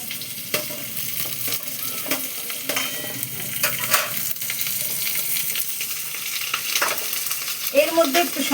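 Chopped bottle-gourd greens and vegetables fry in a hot pan with poppy seed, giving a steady close sizzle broken by repeated scraping strokes of a spatula.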